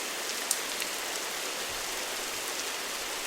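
Steady rain ambience played back through an ambient sound app on Android, a dense, even wash of falling rain with faint patter, continuous and fairly quiet, with no voices.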